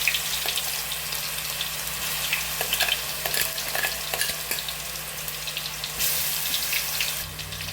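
Ginger, garlic and shallots frying in coconut oil, a continuous close sizzle with stirring scrapes, plus a brief burst of running water near the end; no one speaks.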